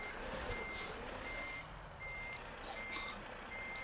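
A truck's reversing alarm beeps in Euro Truck Simulator 2 during parking, a few faint, evenly spaced electronic tones over a low engine hum.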